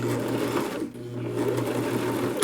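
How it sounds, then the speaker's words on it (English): A sewing machine stitches the sides of a bag lining insert, running with a steady close mechanical hum and rapid needle chatter, dipping briefly before carrying on. "I'm just about to sew the sides in of the insert"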